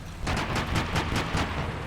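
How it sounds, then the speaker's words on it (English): A BMP armored vehicle in a war video game fires its cannon in a rapid burst of about seven sharp, evenly spaced shots, loud and close, with no talking over them. "that is a BMP which is firing cannon"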